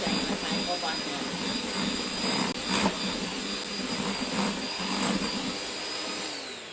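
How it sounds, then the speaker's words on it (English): Electric mixer whisking cream cheese and unsalted butter for cupcake frosting, a loud continuous motor whir held steady throughout, close up. "So give it a really good whisk in your machine"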